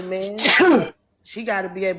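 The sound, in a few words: sneeze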